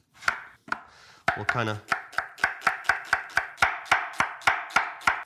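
Knife rapidly rough-chopping vegetables into small cubes on a cutting board for paella, a steady run of sharp, evenly spaced close knocks after a few isolated cuts, with a brief spoken phrase early on.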